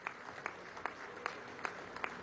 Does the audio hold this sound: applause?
yes